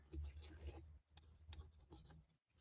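Soft, uneven rasping strokes of light sanding across a napkin-decoupage craft piece, faint and close, with short pauses between passes.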